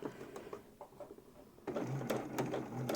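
A sewing machine fitted with a zipper foot stitches along a wire in a homemade face mask, starting with soft taps and then running in a fast, steady mechanical rattle up close.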